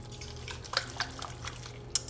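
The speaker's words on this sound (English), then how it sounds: "Now I'm going to whisk this together." A whisk clinks against a bowl while lasagna ingredients, including dried parsley, are mixed, giving quiet, irregular taps and scrapes with a few sharper metallic ticks over a low background hum.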